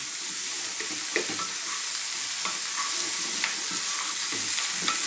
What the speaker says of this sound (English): What we want to do is kind of dry fry these around a little bit